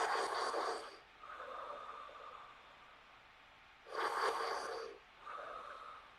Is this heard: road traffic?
no